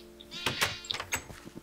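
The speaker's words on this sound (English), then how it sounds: "look at the tiny sheep" Sheep in the video game Minecraft let out several short, close bleats in quick succession, wavering and nasal, with a faint thunk among them.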